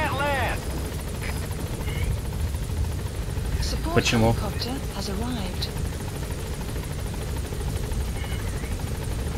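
A helicopter's rotor drone thumps steadily throughout, with a brief spoken word and some scattered game sound effects over it, in the video game Metal Gear Solid V: The Phantom Pain.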